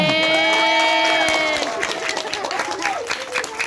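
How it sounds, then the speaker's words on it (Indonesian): A crowd at a neighbourhood Maulid Nabi gathering breaks into clapping and cheering, with voices mixed in, the applause loud at first and then thinning out. "Tepuk tangan untuk Pak RT"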